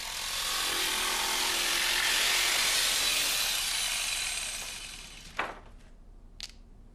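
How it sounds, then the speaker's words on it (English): A jigsaw rasps steadily through a laminate floor board for about five seconds, then stops, followed by a couple of knocks and clicks as the piece is handled. "Cut along these lines with the jigsaw,"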